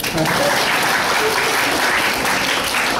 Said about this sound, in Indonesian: Tepuk tangan untuk Pak Guru lah.